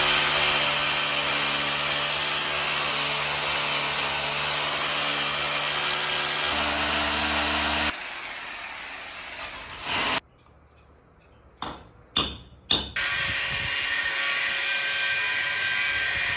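A power tool cuts material in a steady, loud, continuous whine that runs for about eight seconds, then drops to a lower drone with several sharp bursts before the loud cutting resumes. There is no speech.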